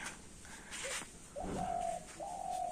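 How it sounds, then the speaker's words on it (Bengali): A dove coos in a rural Bangladeshi farm setting, giving two drawn-out hooting calls in the second half over quiet outdoor background, moderately close and clear. "ওই যে পাশে ঘুঘু ডাকতেছে"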